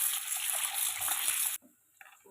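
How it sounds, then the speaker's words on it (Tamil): Water gushes steadily from a tap over raw chicken being washed for about a second and a half, then cuts off, leaving a few faint drips and small splashes. "நல்லா சுத்தமாக 3 தண்ணி ஊற்றி நல்லா கழுவிக்கலாம்"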